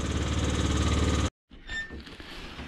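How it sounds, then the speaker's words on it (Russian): A Honda Dio moped engine runs loud and steady with a fast rhythmic buzz, cuts out abruptly to silence, then a rougher, quieter mechanical sound returns. "дай бог здоровья этому мотору."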